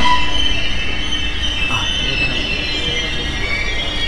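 A train pulling into Dakshineswar station at night after a long journey from Varanasi; a loud, continuous rumble of rolling wheels with high metallic squeals and a faint clatter, and no voices.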